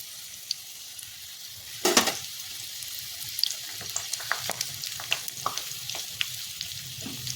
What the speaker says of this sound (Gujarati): આવી રીતે આપણા રોલ તળી લેવાના છે.